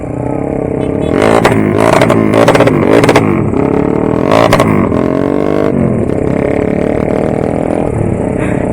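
Motorcycle engines rev in loud, close bursts amid celebrating Persib football fans in a street parade, several sharp throttle blips followed by a sustained engine drone.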